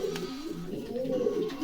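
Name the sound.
pigeons cooing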